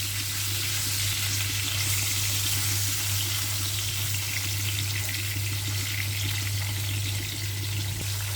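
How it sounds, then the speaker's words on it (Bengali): Taki fish coated in turmeric and salt frying in hot oil, giving a steady, dense sizzle that holds unbroken throughout with no talking. "মাছগুলো আমি ভালোভাবে ভেজে নেব।"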